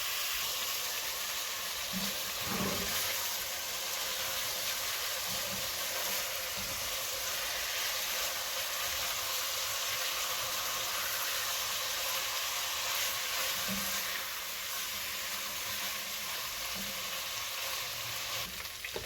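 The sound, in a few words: beef chunks searing in a pan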